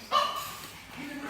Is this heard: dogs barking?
yes